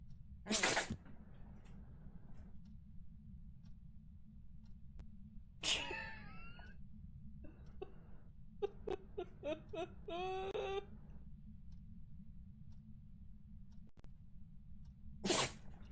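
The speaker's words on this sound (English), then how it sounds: "The dog sneezed in my face." A dog sneezes twice in the farming-life game Palia, sharp bursts separated by several seconds, with squeaky whimper-like noises in between over a steady low hum.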